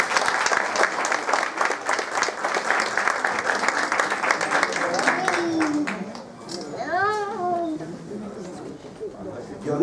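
Crowd applause at a Central American independence celebration in Queens, New York, dense clapping for about six seconds before thinning out, with a voice speaking over the tail end.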